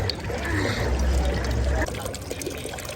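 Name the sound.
water pouring at a public water filling station in Rome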